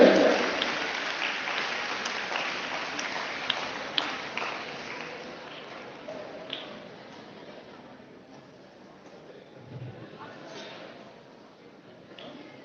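Teachers and students clap at a school assembly. The applause is dense and loud at first, then thins and fades to scattered claps.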